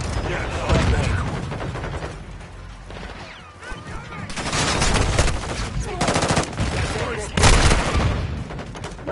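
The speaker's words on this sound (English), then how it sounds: "Stop shooting me!" Heavy automatic gunfire in a Warzone match, loud overlapping bursts and booms rolling on almost nonstop, with voices shouting through the shooting.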